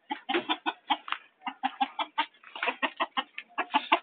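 A chicken clucking in quick, close, repeated bursts, steady and rhythmic with no voices over it.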